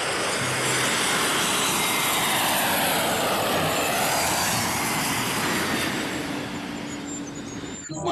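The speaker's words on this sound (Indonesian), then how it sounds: "Wow, pesawat Garuda besar" A large Garuda jet airliner roars overhead, its broad engine noise sweeping past and gradually fading toward the end.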